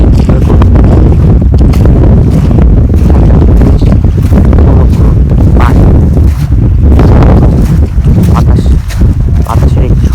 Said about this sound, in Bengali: বাতাসের একটি শব্দ, পানির শব্দ, বাতাস পিছে ঠেলে দিচ্ছে এমন বাতাস।